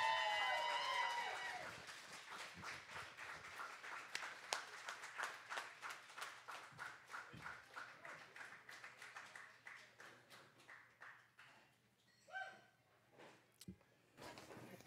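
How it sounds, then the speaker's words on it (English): Audience clapping at an evening poetry reading as the first poet is welcomed, a rhythmic patter of hands that slowly thins out and fades, with a brief voice near the end. "please give a huge round of applause"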